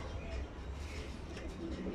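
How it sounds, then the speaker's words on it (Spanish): Young turtle doves cooing softly inside a breeding cage, low muffled coos repeating over steady background noise for two seconds. "Estas son semi adultas, pero ya cantan"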